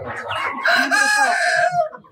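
A chicken lets out a drawn-out crowing call close by, with a few softer clucks before and after.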